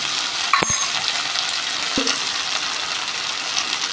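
Okra frying in a pan with salt and turmeric, a steady soft sizzle with a couple of sharp clinks from a utensil against the pan early on.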